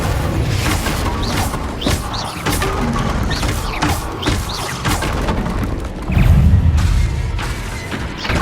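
A Confringo fire spell in Hogwarts Legacy goes off amid dense combat, with repeated booms, thuds and crashing bursts in quick succession, ending in a heavier low blast.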